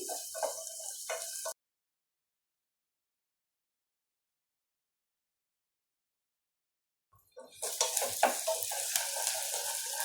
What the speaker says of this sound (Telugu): ఇవి కూడా వేసుకొని బాగా ఫ్రై చేసుకోవాలి. ఇవి ఫ్రై చేస్తూ ఉంటే మంచి స్మెల్ వస్తుంది.